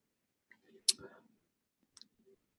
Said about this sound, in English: There's some disk making funny noises there.